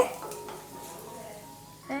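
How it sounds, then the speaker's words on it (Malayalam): Dried red chillies frying lightly in a pan for Kerala sambar, with a metal spoon scraping and clattering against the pan over a faint sizzle, close and fairly loud. "വറ്റൽമുളക് ചേർത്ത് കൊടുത്തിട്ട് ലൈറ്റായിട്ടൊന്ന് വറുത്ത് കൊടുക്കുകയാണ്."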